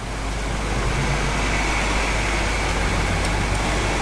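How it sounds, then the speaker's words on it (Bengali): An old 1990s Hanif local bus driving in a Bangladeshi bus simulator game, with a loud, steady engine drone and road rumble running unbroken throughout, with no talking. "নব্বই দশকের বাসকে নিয়ে যাত্রা শুরু করলাম"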